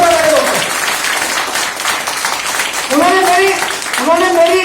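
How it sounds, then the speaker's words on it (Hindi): Applause rises for Bom Thapa sir at an AWPL gathering in Siliguri, steady clapping running throughout while an amplified voice speaks over it in bursts at the start and toward the end. "मैं चाहूंगा दोस्तों एक जोरदार ताली हो जाए हमारे बोम थापा सर के लिए"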